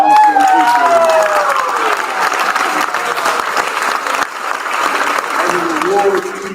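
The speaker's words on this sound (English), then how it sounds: "Let's give another round of applause to our" Applause from a school audience at an eighth-grade awards assembly, loud and continuous for several seconds, with a voice speaking over the start and near the end.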